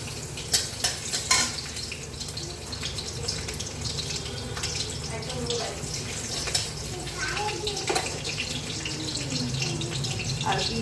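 Chopped garlic frying in hot ghee for a prawn biryani, giving a steady sizzle with stirring and clinking of the pan, while a voice talks over it.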